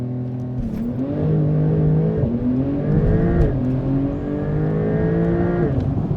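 A 2021 Porsche 911 Turbo S launches hard under launch control on a cold day, the engine surging in loud rising pulls with two quick shifts breaking the climb, struggling for traction as it accelerates.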